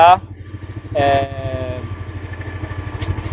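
A Keeway MBP M502N motorcycle sits on a dyno and fires up with a sharp burst, then catches again and settles into a steady, close, throbbing idle.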